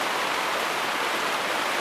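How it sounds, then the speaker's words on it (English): Steady rain falling on canvas outdoors, a dense even hiss with no gaps and no talk, at a moderate level throughout. "as you know, ladies and gents, it's raining"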